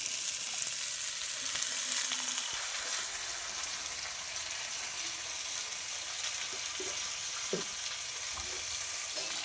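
Soaked, washed lentils tipped into a hot frying pan over tomatoes for a dal with taro, giving a steady broadband sizzle and frying hiss throughout, with a few soft stirring clicks and no talk.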